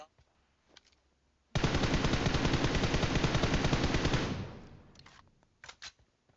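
Sustained burst of rapid automatic gunfire in the shooter game Metro Royale, a continuous rattling stream lasting a few seconds and then fading, with a few faint isolated shots before and after.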